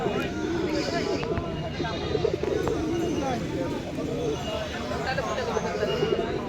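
Native pigeons coo in a low, rolling chorus throughout a busy open-air pigeon market in Rajshahi, close and steady under the babble of traders' voices.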